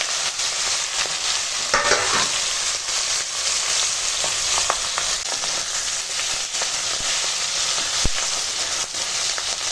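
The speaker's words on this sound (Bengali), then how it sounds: "তেল হয়ে গেছে গরম এখন পটকা দিয়ে দিলাম" Fish swim bladders fry in hot oil in a kadai, giving a loud, steady hiss with crackling pops and occasional sharp spits throughout, no voices over it.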